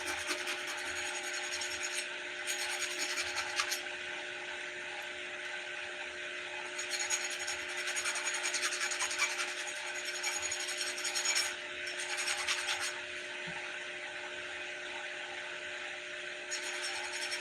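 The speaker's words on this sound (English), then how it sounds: "Gotta get a lot of the burrs all off." A file rasps the burrs off freshly cut fishing spinner blades in a continuous close scraping, with brief pauses and repeated stroke bursts over a faint steady hum.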